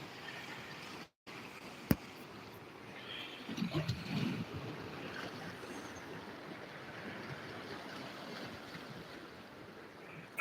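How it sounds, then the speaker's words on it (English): Sea waves at a beach filmed very close up, a steady soft wash of surf with a slightly louder surge partway through, fairly quiet and continuous with no talking. "the noise of the waves is also quite calming."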